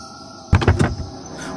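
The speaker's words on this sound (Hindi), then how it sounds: "वो दौड़कर वैन के अंदर घुसा और दरवाजा लॉक कर दिया।" A van door slams shut with a heavy thump, followed by a quick run of mechanical clunks as it locks, close and loud over a faint background hum, staged as a horror-story sound effect.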